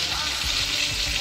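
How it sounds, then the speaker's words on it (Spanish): Lamb or venison shoulder browning in a pan after seasoning with salt and Rioja wine, giving a steady close sizzle with soft crackling throughout, with no talking. "Ahora dejaremos que se vaya poniendo un poco dorada por los dos lados."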